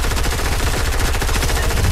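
Rapid automatic gunfire from the Fortnite video game, a dense, continuous burst of shots at steady loudness that fills the whole stretch with no voices over it.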